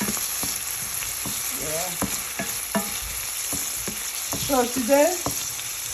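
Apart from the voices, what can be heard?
wild vegetables and egg sizzling while being stirred in a pan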